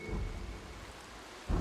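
Rain and thunder in the video game Dying Light: The Beast, set in the industrial zone: a steady, faint hiss of rain over a low rolling rumble that swells at the end, with no talk.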